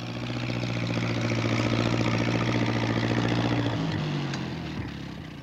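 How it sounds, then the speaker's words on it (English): A tractor engine in an animated children's show rumbles steadily nearby on a rainy day, swelling slightly louder, then its pitch dips and it fades a little toward the end. "He's going to try to get through with his tractor."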